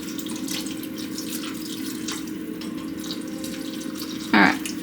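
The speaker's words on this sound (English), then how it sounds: "so I will just top it up with water" Tap water runs steadily into a cooking pot for braised daikon, a continuous close hiss of filling with a brief louder splash near the end.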